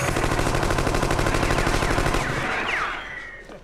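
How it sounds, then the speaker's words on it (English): Rapid machine gun fire, a sound effect in a comedy sketch, rattles in a dense continuous burst for a few seconds, then trails off into fading echoes. "Fires helpful bullets."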